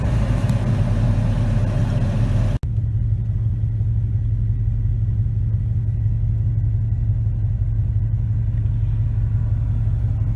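A 454 R35 dually truck drives along with a steady low engine rumble heard from inside, with a brief sharp click early on.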